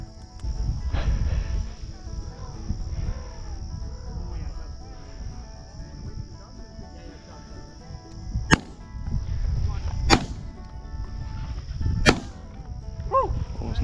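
Shotgun blasts during a dove hunt: three sharp, loud reports a couple of seconds apart near the end, over steady outdoor background noise and a high insect-like drone.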